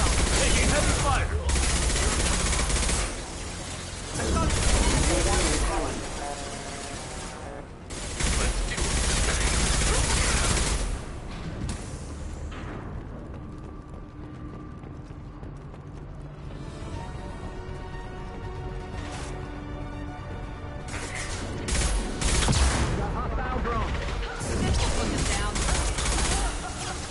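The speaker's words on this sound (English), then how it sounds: "Taking heavy fire!" Heavy gunfire in Mass Effect 2 with sustained automatic bursts and clattering weapon mechanics, loud and close, broken by quieter stretches of music-like tones, with voices calling out over the combat.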